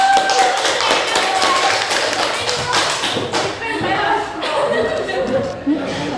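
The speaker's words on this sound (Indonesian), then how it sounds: "Tepuk tangan dulu buat Najwa." Applause from a small group, dense irregular claps with some chatter and laughter mixed in, fairly loud and steady throughout.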